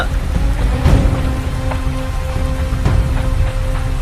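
Heavy rain pours steadily through a dark night, a dense continuous hiss with a few louder splashes and faint low rumbles, filling the scene alone with no voices.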